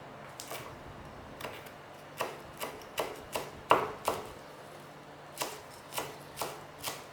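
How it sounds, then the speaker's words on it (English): A knife thinly slices sawtooth coriander on a board, giving about a dozen crisp, evenly spaced taps up close, alone and quiet. "just take some sawtooth coriander and we're going to actually thinly slice this as"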